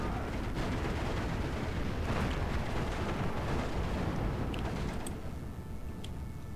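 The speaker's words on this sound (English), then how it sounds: "You see they like walk into this wall of fire here." A dense, continuous barrage of artillery fire and explosions rumbles through a Steel Division 2 battle, heavy booms blending into one roaring wall of sound, with no talking over it.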